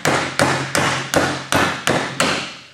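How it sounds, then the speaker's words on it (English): Seven evenly spaced hammer blows ring out loudly as a brake lining is tapped down into a metal housing, each sharp metallic strike decaying into a resonant ring before the next. "you need to tap it down with a hammer"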